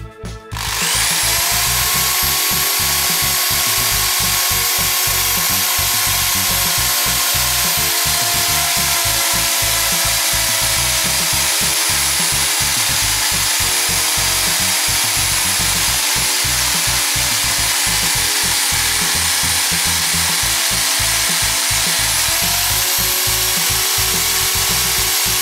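A car cylinder head is resurfaced by a power tool in a garage, giving a loud, continuous grinding whine with a steady high tone that runs unbroken for the full length, with no talking over it.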